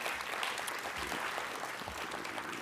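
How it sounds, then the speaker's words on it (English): Applause from the audience for a panel at a research summit: soft, steady clapping from a small crowd throughout, moderately distant. "I'll give a round of applause to the panel."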